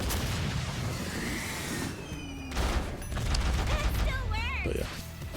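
Jinx's super in the 2XKO fighting game fires a giant monkey cannon: a dense volley of booming, crackling explosions and mechanical clatter, with a voice talking over and game sounds mixed in.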